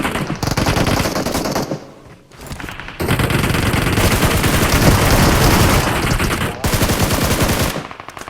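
Groza assault rifle firing in the mobile battle royale game BGMI, loud, dense automatic bursts with brief pauses and a short gap near the middle, no voices.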